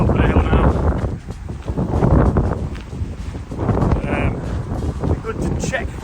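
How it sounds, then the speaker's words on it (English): Strong gusty wind buffeting the microphone on an exposed hilltop, loud rumbling roars swelling and easing in waves over several seconds. "the wind has really picked up"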